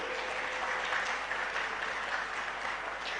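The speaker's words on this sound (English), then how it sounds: "Can we have a round of applause for him?" An audience applauds at a physiotherapy conference, dense and even clapping that holds steady without a break, heard alone at a moderate level.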